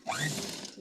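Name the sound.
sewing machine attaching lace to a blouse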